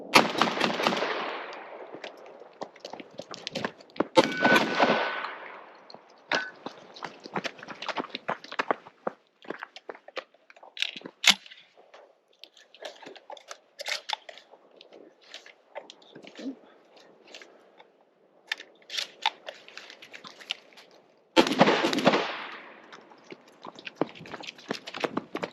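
A Benelli M4 shotgun fires several loud, close blasts spread across the stretch, with quieter handling clicks, clacks and shuffling in between and no talking.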